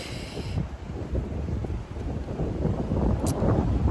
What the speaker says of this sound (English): I'm still getting some of the wind